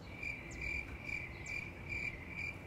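Crickets chirp in a steady, regular rhythm, a high pulsing trill repeating about every half second against quiet background hiss.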